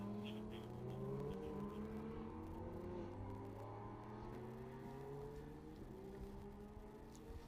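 Ferrari race cars, among them a 488, run in a pack at Laguna Seca, their engines droning and shifting pitch as they accelerate and pass at a steady, moderately distant roar.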